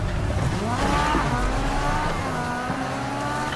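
Racing car engine in the video game Need For Speed Heat, a loud, continuous drone with revving harmonics that climb and dip as the car accelerates and shifts, joined by faint tire noise, with no talking throughout.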